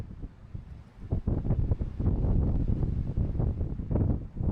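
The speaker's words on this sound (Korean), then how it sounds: "바람 부니까 그네를 저절로 태워주네" Strong wind gusting outdoors around a playground swing during a cross-country walking trek, a steady rough roar with buffeting bursts against the microphone, continuous and fairly loud with no talking.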